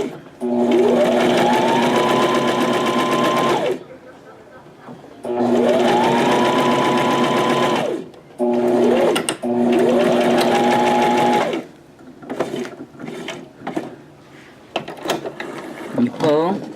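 Domestic sewing machine stitching a straight seam while keeping aligned with the outside presser foot, in three loud bursts of steady whirring separated by pauses, with light handling clicks at the end.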